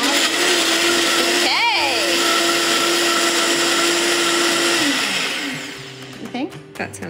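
A blender whirs loudly and steadily while making a smoothie, its motor pitch shifting briefly, then winding down and stopping near the end as people talk over it.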